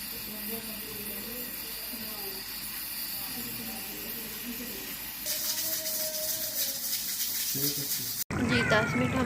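A pressure cooker cooking meat with tomatoes and water hisses steadily, a broad rushing steam sound that starts partway through, with faint muffled voices and kitchen noise underneath.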